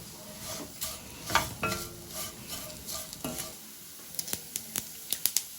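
Gram flour stirred and dry-roasted in a pan for a bhendi bhaji, with repeated scraping strokes over a faint sizzle, then sharp taps of the utensil against the pan.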